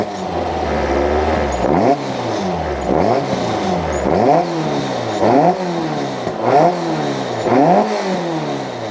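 Caterham 360 sports car engine started and revved hard again and again, loud and close near the exhaust, each rev rising sharply then dropping back in a regular repeating pattern.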